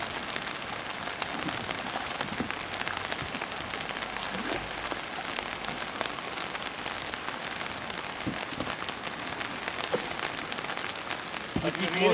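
Rain falls steadily during a white water rafting trip, a constant close hiss with pattering drops, while people's voices come through faintly beneath it.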